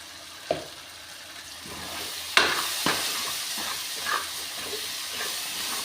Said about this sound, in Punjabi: ਹੁਣ ਆਪਾਂ ਐਡ ਕਰਾਂਗੇ ਜੀ ਮਿਰਚ